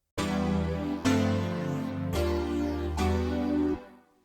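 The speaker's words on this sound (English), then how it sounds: "we have a string pad coming from the M1 chamber strings, which will then be also layered with the classic M1 piano" Layered synth chords of an M1 chamber strings pad and classic M1 piano with a phaser, struck four times in a steady rhythm with a swirling, phased shimmer before fading out.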